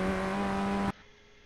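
A Formula Ford 1600 race car in iRacing at Oulton Park, its engine droning at a steady high pitch under throttle for under a second before cutting off abruptly into near silence.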